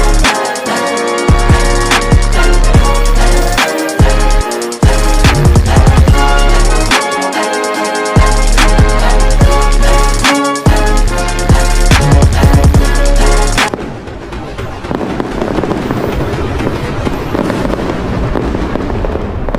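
Fireworks burst constantly in the VR game Animal Company during a Fourth of July special. Loud, dense crackles and booms pile up, then fade into a softer, steady fizzing crackle.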